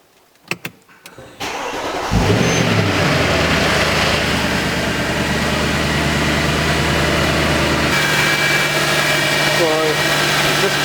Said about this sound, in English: I'm going to start the engine again.